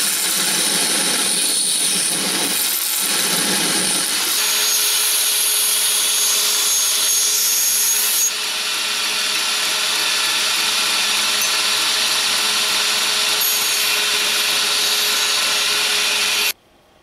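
A folding knife template is held against a belt grinder, a loud continuous abrasive whine with a harsher rubbing texture early on. The grinding runs steadily to an abrupt stop, with no talking.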